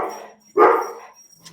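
Dogs bark indoors in two loud, close bursts, a brief one followed by a longer excited bark, with a faint yip at the end and no talking over them.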